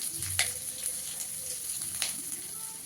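Four broken green chillies fry in oil with chopped onion, making a continuous soft sizzle with a few brief crackling pops and light stirring sounds.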